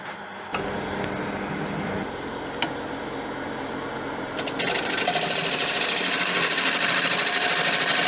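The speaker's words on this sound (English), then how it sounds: "I'm just going to sharpen this gouge again." A woodturning gouge is sharpened against a grinder: a steady whirring drone that turns into louder, brighter grinding partway through, continuous and close, with no talking.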